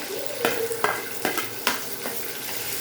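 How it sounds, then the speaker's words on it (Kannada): Onions fry in a pan, a steady close sizzle broken by several stirring scrapes and clatters against the pan, with no talk. "ಈರುಳ್ಳಿ ಹಾಕ್ತೀನಿ."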